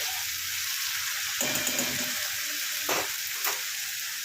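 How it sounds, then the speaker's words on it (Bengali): Garlic fries in hot oil in a home kitchen, giving a steady, bright sizzle throughout, with a few brief bursts of louder crackling and stirring partway through and no talking. "রসুনের ভালো গন্ধ ছাড়লে, ভাজা হয়ে গেলে"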